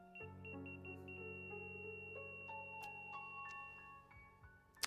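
A hospital heart monitor beeps within video game background music, steady electronic tones under sustained musical notes, fairly quiet with no talking.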